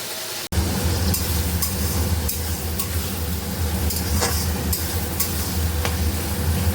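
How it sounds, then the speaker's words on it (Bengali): Chicken pieces marinated with salt, turmeric and lemon sizzle steadily in a hot pan, a loud continuous frying hiss broken by occasional stirring scrapes. "এবার একটু ভালো করে ভেজে নেব মাংসটাকে।"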